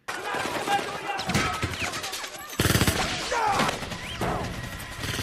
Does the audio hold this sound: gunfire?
yes